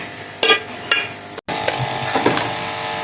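Black pepper and cumin powder roasting in ghee in a pan for Pakistani daal mash, a soft steady sizzle with a few scraping stirs of a spoon against the pan.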